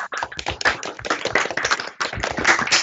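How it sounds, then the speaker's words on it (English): A small group applauds Alison at a career development session, a close run of distinct individual hand claps with uneven rhythm and short gaps, fairly loud and unaccompanied. "If we could do a round of applause for Alison, that'd be lovely."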